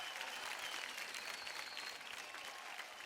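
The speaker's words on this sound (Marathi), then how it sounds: "जोरदार टाळ्या होऊन जाऊ द्या" Sustained, even audience applause fills a televised dance competition show, a dense wash of clapping at steady level with no voices standing out.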